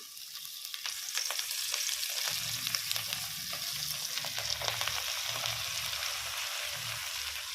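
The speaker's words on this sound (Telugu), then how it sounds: "ఇప్పుడు ఈ తాలింపులో చెంచలాకునైతే వేసుకోవాలి" Chencali greens sizzle steadily in hot tempering oil, a continuous crackling fry with occasional ladle-stirring sounds underneath.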